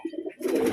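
Pigeons being readied for an 11-pigeon flying tournament give a few low, soft coos close by, a short rising burst of fuller sound at the end.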